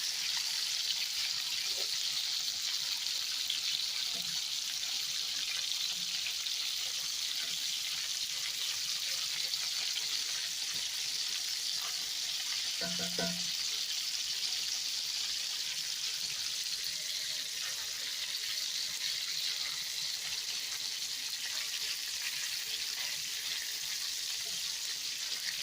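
Lamb chops fry in a pan at home, a faint, even sizzle running continuously with a brief clatter partway through and no talking.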